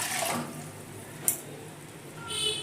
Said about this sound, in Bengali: আর যেই বাটিতে ডাল রাখবো তার হাফ বাটির কম জল দিয়ে দিলাম।